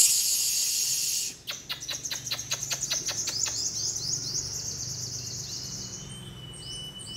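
Sunbird calling at a bird-trapping spot: a loud high buzzy note, then a rapid run of about a dozen sharp clicking chirps, followed by softer trilling twitters over a low steady hum.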